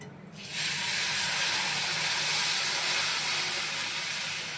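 Milk poured into a pan of hot roasted semolina for sweet sheera sets off a sudden loud, steady hiss that starts sharply and holds near and constant, slowly fading slightly.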